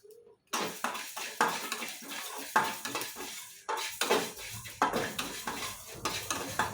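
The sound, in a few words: fenugreek seeds being roasted and stirred in a pan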